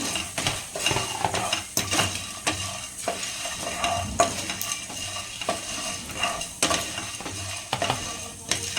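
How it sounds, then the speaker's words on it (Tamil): Whole spices including cinnamon, cloves and cardamom dry roast in a pan, giving repeated scraping stirs and light rattling clicks against the metal over a faint crackle, close and steady with no talk. "சேர்த்துட்டு ட்ரை ரோஸ்ட் பண்ணிக்கலாங்க"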